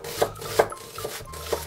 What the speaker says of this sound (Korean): 양파 반 개 175g을 잘게 다져줍니다.